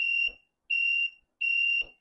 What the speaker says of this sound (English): it'd make kind of an annoying buzzing noise.